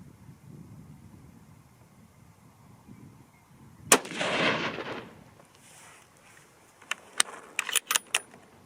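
A Remington 700 BDL rifle in .243 Win fires one loud, sharp shot that rings and fades outdoors, followed by several quick metallic clicks of bolt handling.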